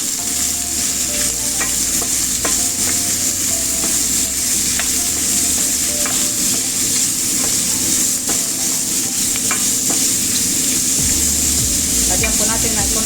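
Shrimp sizzle and crackle steadily in a pan of melted butter as they are stir-fried, a loud, continuous hiss punctuated by scraping and clinking from a stirring utensil.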